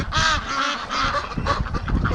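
Rouen ducks at a breeding pen give a steady stream of loud, close, overlapping quacks and honking calls, with nasal calls repeating throughout and no pause.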